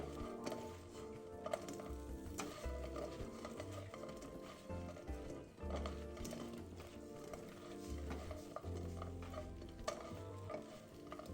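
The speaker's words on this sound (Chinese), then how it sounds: "快速翻拌，让每块芋头均匀裹上糖浆" Fried taro pieces are tossed and stirred in sugar syrup in a wok, with soft scraping and sticky shuffling that continues through the whole stretch under steady background sound.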